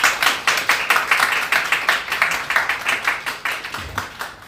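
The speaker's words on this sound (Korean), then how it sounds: "우리 환영의 박수 먼저 한번 할까요?" A church congregation claps in welcome, a lively stretch of many hands applauding together in quick, slightly uneven bursts that carry on for several seconds without pause.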